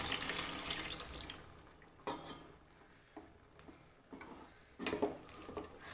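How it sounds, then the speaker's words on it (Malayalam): Tamarind water splashes and pours into a pot for rasam, loud at first and then trailing into softer trickles and small clinks. "ഇനി നമുക്കതിലേക്ക് പുളിവെള്ളം ഒഴിച്ചു കൊടുക്കുന്നുണ്ട്"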